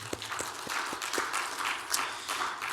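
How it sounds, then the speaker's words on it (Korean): Applause from a church congregation at a Thanksgiving Sunday service, a steady wash of many hands clapping at moderate volume, fairly distant, with no voices over it. "우리 다시 한번 하나님께 감사의 박수 드리겠습니다"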